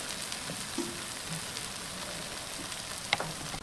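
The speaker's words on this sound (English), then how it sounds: "So let me take this out real quick and flip them." Chicken thighs cooking at 400 degrees in an air fryer give off a faint, steady sizzle and crackle, with a brief clunk as the basket is handled; no voices.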